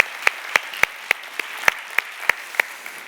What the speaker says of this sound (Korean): 감사와 격려의 박수 같이 한번 하겠습니다